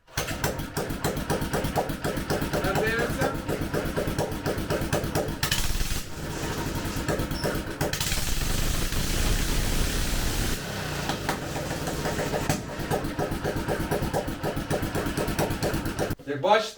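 A small walk-behind tractor engine mounted on a homemade buggy fires up and runs steadily with a loud, rattling chug close by, its tone shifting a few times before cutting off.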